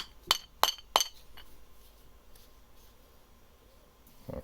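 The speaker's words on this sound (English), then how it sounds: "Refit the stud." Metal clinks while a stud is refitted on a lathe toolpost: three sharp, bright clinks in quick succession at close range, then quiet workshop background, with a faint knock at the end.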